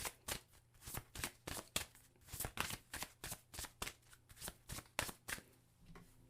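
A Sedona Oracle card deck is shuffled by hand in a quiet room, about fifteen crisp riffling bursts in a steady, close rhythm, with no one speaking.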